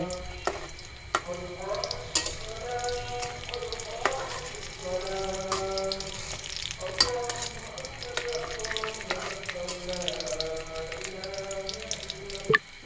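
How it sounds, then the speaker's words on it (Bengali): Bell pepper pieces fry in a pan, a steady sizzle running throughout with a few sharp utensil clinks, close and moderately loud, no talking. "এখন ভালো করে এটা ভেজে নিব।"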